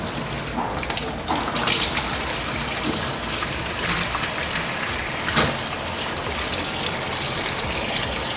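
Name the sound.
rinsing chiodini mushrooms under running water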